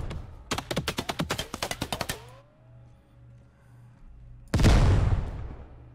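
Rapid bursts of gunfire in the Ground Branch tactical shooter, a quick string of about a dozen close shots, a short lull with low rumble, then a heavy loud blast that fades out.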